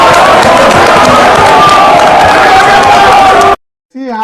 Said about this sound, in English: See how mumu people they clap for that very place.